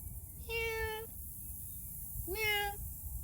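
Two clear, high-pitched meows sound close by, separated by a short pause, over a faint low background rumble.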